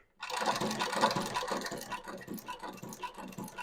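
A Cowboy 7360 or Claes 834 heavy-duty shoe patcher sewing machine runs close by, giving rapid rhythmic needle clatter with rattling mechanical ticks that pulse steadily for a few seconds.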